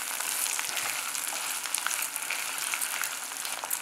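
Chillies and other ingredients sautéing in a pan for pongal, a steady close sizzle and crackle with light stirring, continuous and without speech.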